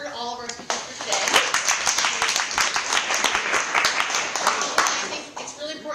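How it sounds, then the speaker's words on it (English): Audience at a Friday forum on health, equity and walkability applauding its speakers: a voice is heard briefly before a burst of many hands clapping, sustained and fairly loud, thinning out near the end. "let's give a round of applause for all of our speakers for today"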